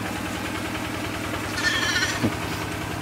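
A sheep bleats once, a short wavering call over a steady low engine-like hum in the background on a farm with livestock.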